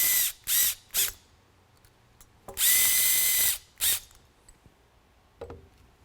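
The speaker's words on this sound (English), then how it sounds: "take the good old trusty Makita and get things cinched down nice and snug" Makita power drill driving mounting screws into a Whelen bail bracket for an ION light head, in several short whirring bursts and one longer, louder run, close up with quiet pauses between.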